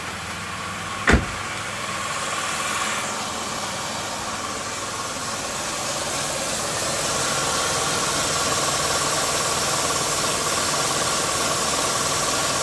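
A Pontiac Grand Am V6 engine idles steadily after a fuel pressure regulator install, giving a smooth, even hum up close. A single sharp click sounds near the start, and no one talks.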